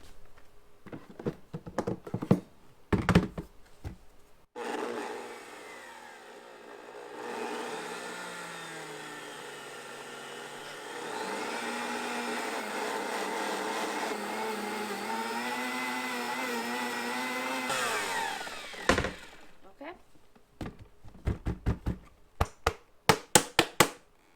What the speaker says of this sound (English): I don't have powdered sugar in the house, so I just make it in the blender.